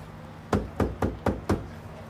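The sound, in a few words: knocking on a door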